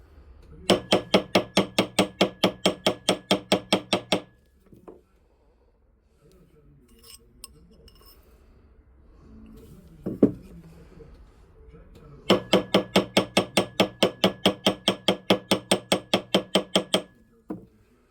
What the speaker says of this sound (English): I'm switching between the rawhide mallet and the ball peen hammer